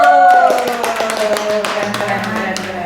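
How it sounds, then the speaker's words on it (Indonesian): A small group claps during a podcast, a brief burst of irregular hand claps that is fairly close and mixed with speech and tonal background sound. "Tepuk tangan dulu."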